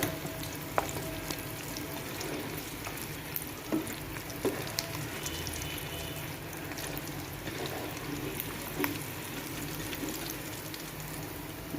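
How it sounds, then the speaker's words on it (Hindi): Chicken wings for a masala wings recipe deep fry in hot oil, a steady dense sizzle and crackle with occasional brief pops and stirring clinks, close and continuous, with no voices. "विंग्स हमारे फ्राई हो रहे हैं।"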